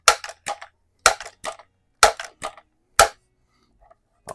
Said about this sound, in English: But we'll shoot this one little mag full here anyway